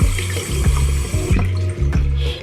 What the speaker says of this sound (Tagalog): iwawash-wash ko lang siyang ganyan. Kasi mawala yung bula niya